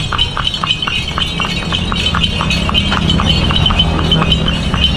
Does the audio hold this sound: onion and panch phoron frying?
no